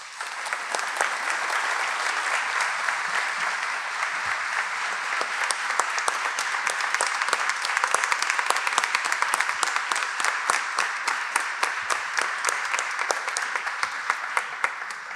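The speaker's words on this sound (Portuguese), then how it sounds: "Uma salva de palmas para ela." An audience at an outdoor autumn concert of philharmonic bands applauds a singer, a full, continuous wave of clapping that stays strong for about fifteen seconds, with individual claps popping out near the front.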